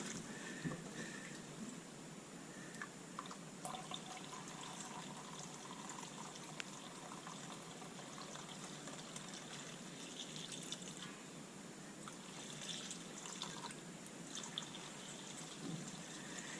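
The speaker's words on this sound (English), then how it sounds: "we'll just top it up with good old water" Faint, steady pouring of water into a Mazda MX5 radiator, a soft continuous trickle and splash with no voices, lasting throughout.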